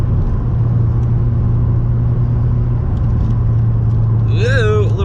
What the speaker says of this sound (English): Alan giving it some gas through the straightaway though.